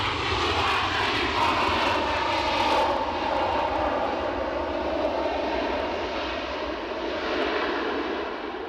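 A KLM airliner's engines run steadily at Edinburgh Airport after pushback, a loud sustained roar with a constant whine and no breaks, heard without talk.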